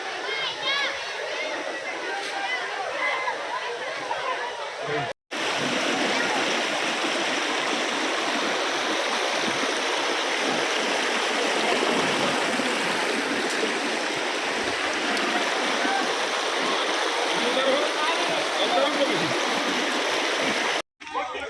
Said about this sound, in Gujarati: તો જોઈ શકો આ ધોધનું પાણી છે